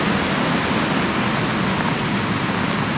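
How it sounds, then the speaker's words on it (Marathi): A monsoon-swollen river in Konkan roars past under heavy rain, a dense, unbroken rush of floodwater filling the scene at close range, loud and steady with no voices. "बघू शकतात लिटरली किती मोठं पाणी येतं बघा"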